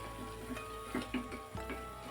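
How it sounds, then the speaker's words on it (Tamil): Onion and tomato sautéing in hot oil in a pan for chapati kurma, a steady close sizzle with soft stirring scrapes and a few brief clinks, no talking. "நல்லா இந்த எண்ணெயிலேயே அந்த பச்சை வாடை போகிற அளவுக்கு வதங்கணும்"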